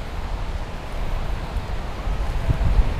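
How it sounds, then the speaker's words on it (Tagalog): Steady, cold wind rushes and buffets the microphone outdoors at a beach in Sydney, a constant low roar with no voices. "ang lamig, lamig ng hangin kahit ano."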